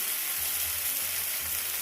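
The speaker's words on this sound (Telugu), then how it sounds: "2 టేబుల్ స్పూన్ ఆయిల్ వేసుకొని మనం ముందుగా ప్రిపేర్ చేసుకున్న వడల్ని తీసుకొని ప్యాన్లో వేసుకోవాలి" Banana vadas shallow-fry in a couple of tablespoons of oil in a pan over a low flame, giving a soft, steady, close sizzle with no talk.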